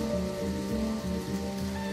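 Rain falls steadily in the video game Deadly Premonition, a soft continuous patter over a layer of low, evenly repeating game music, with no talking.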